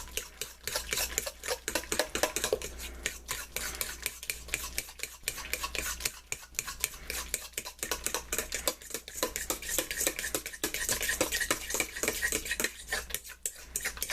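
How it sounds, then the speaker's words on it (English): Pumpkin pie filling with a spice mixture is mixed by hand in a bowl, giving a steady, busy run of scraping, clinking and stirring strokes that continues throughout at close range, with no talking. "And mix it all together really well."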